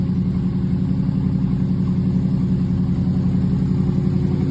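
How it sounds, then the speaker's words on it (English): A limited drag radial race car engine runs at a steady, loud, deep rumble throughout, a continuous low throbbing drone with no voices over it. "the first sound, if you're only listening, this is Brett LaSala's motor."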